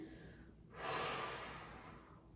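Slow, audible breathing while holding a child's pose stretch on a workout mat, a soft rising breath swelling then easing away over a couple of seconds, close and alone.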